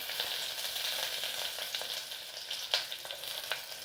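Curry leaves and onions frying in a pan, with a soft steady sizzle and a few brief crackles and stirring scrapes, close but quiet.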